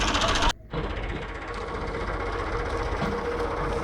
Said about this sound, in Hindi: इसको निकालने के लिए ट्रैक्टर है फीएट 640 1979 मॉडल।